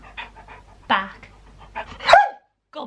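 A hungry dog barks on command, a few sharp, fairly close barks with panting between them, while a voice speaks alongside.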